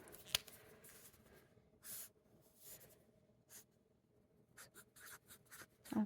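A pen writes a label on a paper note card, giving quiet, close scratchy strokes in short bursts separated by pauses, with no speech.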